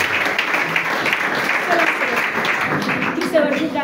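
Applause from an audience in a church hall rises in a dense, sustained wash of clapping, heard under and alongside voices that talk through it.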